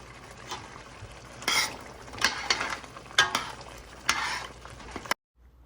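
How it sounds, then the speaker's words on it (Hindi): Spice paste stirred and roasted in about half a cup of hot oil, with a steady sizzle broken by several scraping strokes of a spoon against the pan, close and fairly loud, ending abruptly. "मसाले को अच्छे से भूनना है तकरीबन 7-8 मिनट, जब तक कि ऑयल निकल आए"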